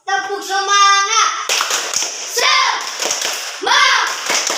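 A classroom of children does a rhythmic spirit clap, with sharp group claps and thumps alternating with loud chanted voices in a brisk, patterned beat.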